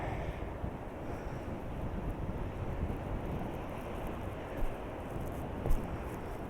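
Strong wind buffets the microphone on a steep coastal path down toward the sea, a constant low roar with waves and surf blended in, two brief louder gusts near the end, no talking.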